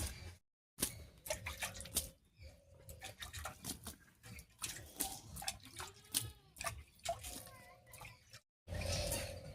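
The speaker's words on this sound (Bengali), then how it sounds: "এবারে জল দিয়ে ভিজিয়ে নেব।" Water poured to soak a freshly dug mud oven pit splashes and patters close by in uneven bursts, with gurgling drips and brief pauses between pours.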